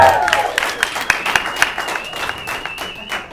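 A stand-up comedy crowd applauds, with scattered sharp claps over a sustained bed of clapping and cheers that gradually thins, fairly close and loud, with a voice briefly heard over it.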